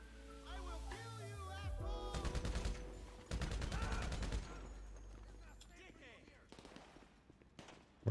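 Video game gunfire, bursts of rapid automatic shots in clustered volleys at moderate distance, mixed with game music and effects, with a loud pop at the very end.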